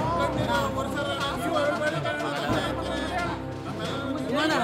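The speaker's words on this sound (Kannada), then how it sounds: "ಕಾರ್ಯಕರ್ತರ ಘೋಷಣೆ, ಜೈಕಾರ ಜೋರಾಗಿತ್ತು" Party workers crowd together shouting slogans and cheers at the arrival of a politician outside a former prime minister's residence, a dense, loud babble of many voices continuing throughout.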